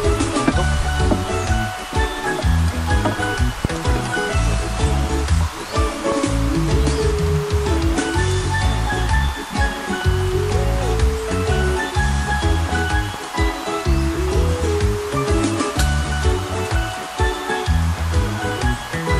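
Flowing river water at Sungai Malawen, a steady, loud rushing wash that continues unbroken throughout, with no voices.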